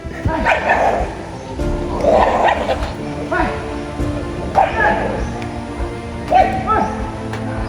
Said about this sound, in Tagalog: Aso ni Lolo Jimmy yung brown